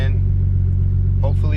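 Turbocharged BMW E30 idling warm before pulling away, a steady deep engine rumble close by, with a brief voice and a faint rise in tone near the end.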